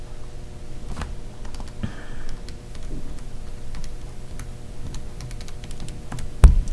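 Buttons pressed on a calculator during a maths calculation, a quick run of light plastic clicks and taps, close and fairly crisp, with one louder knock near the end.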